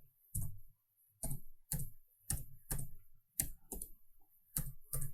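Computer keyboard typing as text is entered in software, eight or so distinct, fairly loud keystroke bursts at an uneven pace with near-silence between them, no voices.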